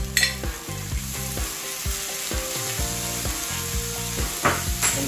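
Sweet corn tipped into a pan of corned beef frying on the stove, giving a steady close sizzle with repeated scraping stirs and knocks of a utensil against the pan.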